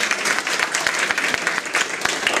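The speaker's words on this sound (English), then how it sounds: "so give her a round of applause." A residents' association meeting audience applauds steadily, dense overlapping claps filling the whole stretch at a fairly loud, even level with no voices over it.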